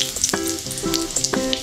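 Cumin seeds crackle and sizzle in hot oil in a pan while a Bengali prawn and pointed gourd curry is being cooked, with sharp pops and brief spatters over a steady fry.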